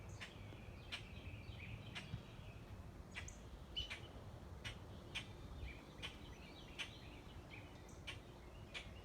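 Birds chirp and call from the trees on a fine day outdoors, with short sharp notes repeating every second or so over a steady low background rumble.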